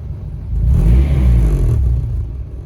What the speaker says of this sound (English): I let it warm up for a bit. And I'd say that's a good idle.